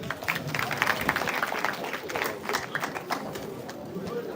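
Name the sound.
audience clapping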